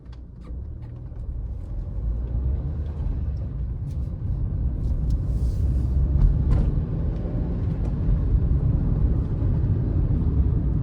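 An old, banged-up Toyota Yaris idles in neutral with the handbrake on, a steady low rumbling hum that holds throughout, close and fairly loud, with faint clicks and rattles on top.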